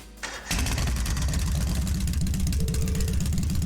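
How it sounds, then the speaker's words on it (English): Motorbike engine in the game Trails of Cold Steel cranks briefly, then catches and settles into a loud, steady idle with a rhythmic low putter that continues to the end, with no talk over it. "Alright, I'm going to start up the engine now."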